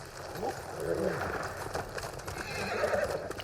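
A horse in the video game Ghost of Tsushima whinnies twice, a shrill neigh near the start and another near the end, over hoof clip-clops and voices talking in the background.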